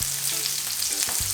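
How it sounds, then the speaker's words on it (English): Fish searing in hot oil over high heat, a steady, loud, bright sizzle that runs unbroken throughout with no talking. "we want to sear this in a high heat, probably for about 2 minutes each side"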